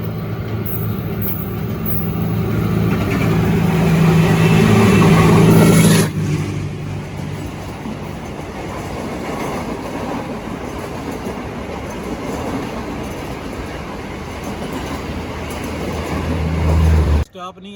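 A train rolls through Mandra railway station in Pakistan without stopping, a loud close rumble with a horn-like tone early on, then a steady clattering roar of passing wagons that lasts to the end, with someone talking in the first seconds.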